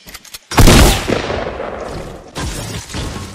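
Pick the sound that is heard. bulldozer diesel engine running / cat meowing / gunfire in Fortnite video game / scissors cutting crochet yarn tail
gunfire in Fortnite video game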